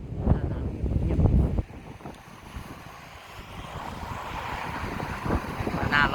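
Strong cold wind buffets the microphone by the sea, loud rumbling gusts that peak early, ease off, then swell again toward the end, with surf faintly underneath.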